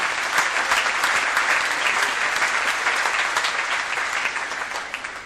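A large audience at an evening event in Terrigal on the Central Coast, New South Wales, claps to welcome a speaker, a dense, loud, sustained round that tapers slightly at the end.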